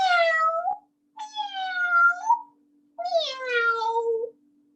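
Voices mimicking cat meows during a children's music and movement class: three drawn-out, nasal meows with gliding pitch, separated by short silences, close and clear.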